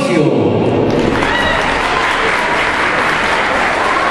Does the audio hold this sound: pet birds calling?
no